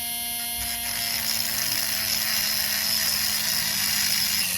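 An electric drill with a 3.5mm bit drills out stuck screws on the chassis of a Rovan Baja 5B RC car, giving a steady high whine that grows slightly rougher as the bit bites.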